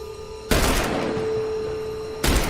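Two loud broadband gunshot blasts in The Bureau: XCOM Declassified video game, the first sustaining a rattling burst, separated by under two seconds, over a steady electronic hum.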